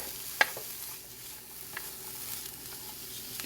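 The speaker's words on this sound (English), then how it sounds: "we'll just allow these veggies to cook down until they're nice and soft and translucent" Vegetables for a meatloaf softening in a pan, a quiet steady sizzle with a sharp clink of a utensil near the start and a few faint stirring taps afterward.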